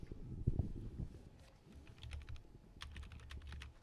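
Quick bursts of keystrokes on a computer keyboard at a card-game tournament table, faint clicks coming in short irregular runs over low room murmur.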